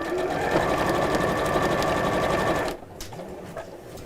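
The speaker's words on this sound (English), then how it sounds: "I'm literally just sewing 1/4 of an inch around the edge of the whole design." A sewing machine runs fast and continuous, stitching a quarter inch around the edge of a design, close and steady, then stops abruptly leaving quiet room sound.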